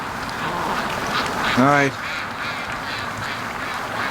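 Ducks at a creek on a windy day give a short burst of quacking, one loud nasal call, over steady wind noise, with a person speaking briefly.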